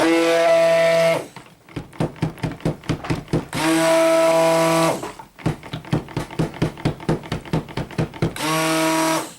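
A blender whirs loudly as ultramarine colorant is mixed into beer soap, running in steady bursts broken by rapid pulsing stretches, close and without talk.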